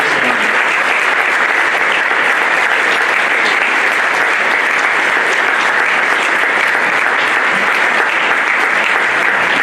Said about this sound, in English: If we give everyone just a round of applause,